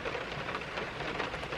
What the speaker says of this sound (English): we were cut a little bit short due to the rain